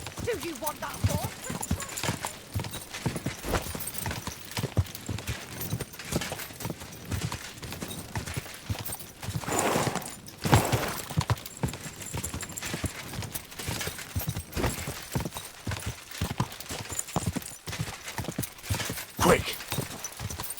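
Horse hooves clip-clopping in the medieval video game Kingdom Come: Deliverance II, a steady run of close hoofbeats under intermittent spoken dialogue.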